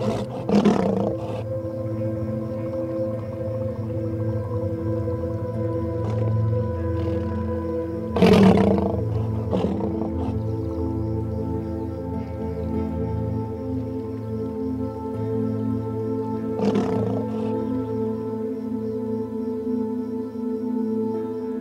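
A lion growls over its prey near a crocodile, a continuous low rumbling roar with louder surges around the middle and later, close and alone without talk.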